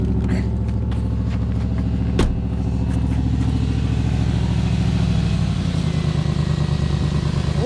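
A 14-year-old Range Rover, started after five months of standing, idles with a steady low engine rumble, close and constant, with a brief sharp click partway through.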